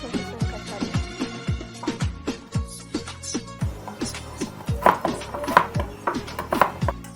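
Rhythmic knife chopping on a board, steady regular strikes close by while onions are cut for an Eid dish, with faint clinks of utensils and no speech.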